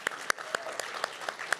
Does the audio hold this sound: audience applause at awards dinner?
yes